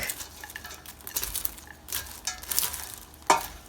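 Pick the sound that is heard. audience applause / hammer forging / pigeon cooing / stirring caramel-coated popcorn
stirring caramel-coated popcorn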